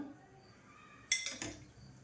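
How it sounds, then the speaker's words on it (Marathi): A spoon clinks and scrapes against a pan while chaat masala is mixed into fried garlic; one sharp metallic knock followed by a brief scrape, close up, after a quiet stretch. "थोडासा घालूया चाट मसाला मिक्स करून घ्यायचं आहे"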